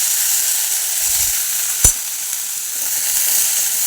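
Green beans frying in oil with mustard seeds, cumin and red chili powder, a steady close sizzle with one sharp pop or spatter near the middle.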